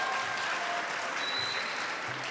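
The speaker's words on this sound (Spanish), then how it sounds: "un aplauso." Applause for a school at a talk on glacier changes in Chile, a faint, distant, even patter of many hands clapping with no voices, steady and unbroken.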